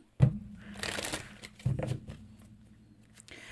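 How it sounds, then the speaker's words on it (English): Tarot cards being shuffled by hand, a quick riffling burst near the start and a second shorter one midway, close and fairly loud with a faint papery crinkle trailing off. "I, however, apparently need to work on my shuffle."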